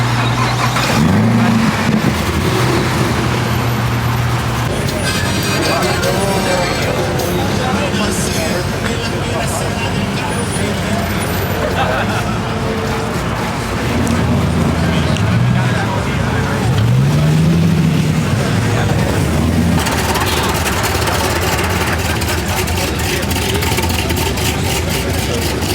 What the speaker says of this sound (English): Let the Hellcat go first.